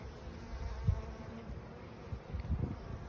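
Honeybees buzzing around an open beehive, a faint steady hum with a couple of brief louder passes close by, no talking.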